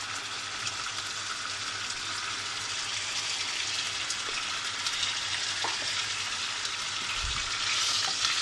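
Garlic and cumin seeds sauté in about three tablespoons of oil, giving a continuous, even frying hiss with little stirring and only faint low bumps; no one talks.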